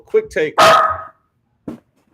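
A dog barks a few times close by, sharp yelps clustered near the start with one more short bark after a pause, overlapping with a person talking.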